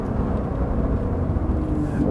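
A 2020 Porsche 911 (992) Carrera S engine rumbles steadily with a deep, smooth drone, sustained and fairly loud as the car moves along.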